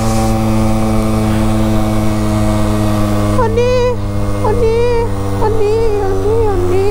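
A 50cc Gilera moped engine labours in low gear on a climb, holding a loud, steady droning hum close to the mic while a voice talks over it in the second half.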